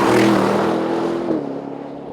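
A new Aston Martin Vantage in manual mode pulls hard, its engine note loud and close, revving up and then shifting down in pitch as it changes gear, with no talking.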